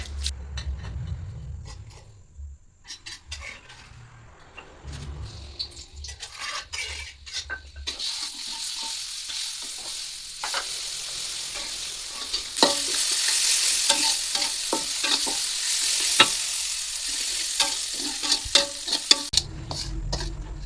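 Spice paste stir-fried in a pan until fragrant, starting with quiet clinks of utensils, then a growing, bright sizzle punctuated by repeated spatula scrapes and taps against the pan, loud and close with no voices.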